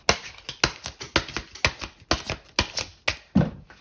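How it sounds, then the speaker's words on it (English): A deck of tarot cards is handled and shuffled up close, giving about a dozen crisp, papery slaps in a fairly even rhythm, with no talking. "you barely needed any shuffling because your cards came out like immediately"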